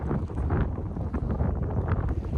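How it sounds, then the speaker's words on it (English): Steady, loud wind buffeting a microphone on a Sea-Doo personal watercraft crossing rough water, a dense continuous rush with low rumble running throughout, no voices. "You can hear that wind."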